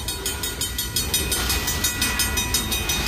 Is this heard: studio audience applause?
no